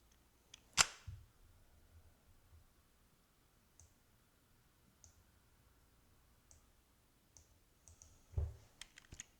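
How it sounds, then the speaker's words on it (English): A computer keyboard button pressed, giving one sharp, close click near the start and another burst of clicks near the end, with faint scattered ticks in a quiet room between them. "I just hit a button on my keys."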